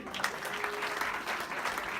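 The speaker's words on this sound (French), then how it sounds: "Bravo, on l'applaudit encore une fois." A club audience at a hypnosis show applauds a volunteer in a short burst of steady, moderately loud clapping with a faint murmur of voices underneath.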